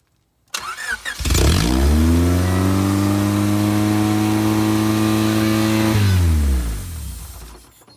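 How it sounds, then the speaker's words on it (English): Honda Civic engine with an unsteady idle, running high after startup: a loud, close engine drone starts abruptly, holds for about five seconds with a slightly wavering pitch, then winds down and fades. "See how it's idling all crazy?"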